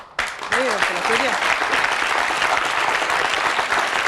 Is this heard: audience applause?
yes